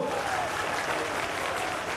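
A rally crowd for the chief minister in Dabra claps continuously, with steady, dense applause that holds at an even level across the whole stretch.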